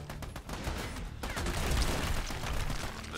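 Pistol gunfire in the Army of Two video game, a rapid burst of sharp shots early on, then denser crackling gunfire and game noise through the rest, fairly quiet overall with no talking.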